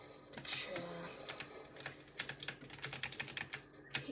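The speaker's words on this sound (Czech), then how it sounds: "pokud vás bude štvát ten zvuk té klávesnice" Rapid clacking keystrokes on a computer keyboard, close and crisp, in irregular bursts with short pauses between them.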